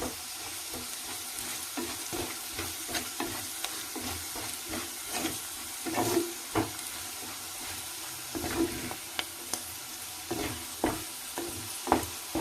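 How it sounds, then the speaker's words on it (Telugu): Onions frying in a clay pot, with a continuous close sizzle under repeated scraping stirs of the spoon against the pot throughout. "ఇవి బాగా కలుపుతూనే ఉండాలి ఏగేంత వరకు"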